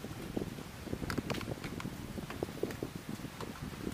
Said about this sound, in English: Oh, the wind's a bit strong.